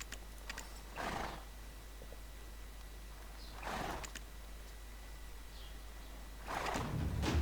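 A horse whinnies three times, faint and spaced apart, over a steady low hum at a stable in the video game Black Desert Online.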